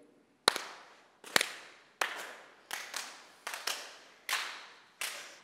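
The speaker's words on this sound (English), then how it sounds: "So you guys double clap and send it back around." A group double-clapping hands in a rhythm exercise, sharp paired claps repeating in a steady pattern around the room, close and clear with no talking.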